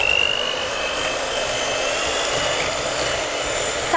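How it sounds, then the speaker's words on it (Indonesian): An electric mixer whirs steadily while beating steamed brownie batter with eggs and emulsifier, a loud continuous motor drone with a high whine, close and unbroken throughout. "Terus kita kocok dengan mixer."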